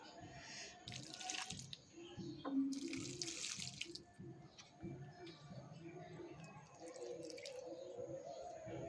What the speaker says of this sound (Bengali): অল্প অল্পই জল দিই